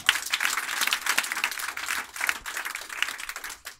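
A church congregation breaks into sustained applause, dense and continuous clapping from many hands filling the space, with a brief dip near the end.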